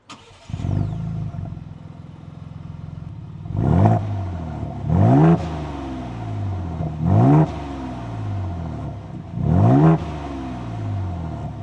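A 2026 Ford Bronco Raptor starts with a crank and catch, settles into a rumbling idle, then gets four sharp blips of the throttle spaced a couple of seconds apart, each rev rising and falling back to idle, close and loud.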